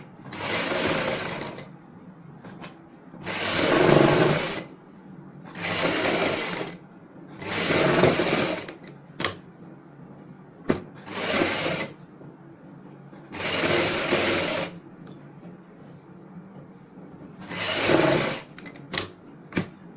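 Sewing machine stitching the fabric of a kameez neck, in repeated bursts of steady running lasting one to two seconds each with short pauses between, close and fairly loud, with no talking.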